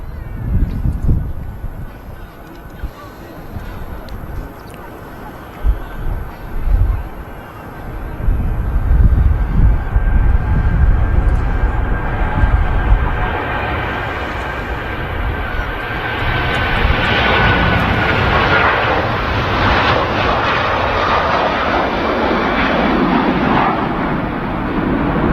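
Jet engines of a Virgin airliner roar during the takeoff roll at Manchester Airport, a deep rumble building into a loud, sustained roar with wind buffeting the microphone.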